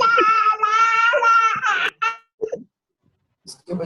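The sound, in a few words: children crying in background during online class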